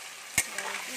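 Pieces of fish head drop into a hot frying pan with a sharp clatter, then a soft sizzle and stirring scrape follow briefly.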